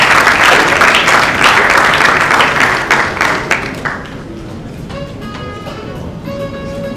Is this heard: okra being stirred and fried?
no